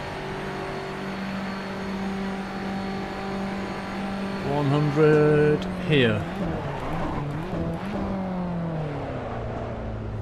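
Formula Abarth race car engines from the game Assetto Corsa drone steadily at mid distance, rising and falling in pitch as cars pass and shift, while someone talks over them throughout.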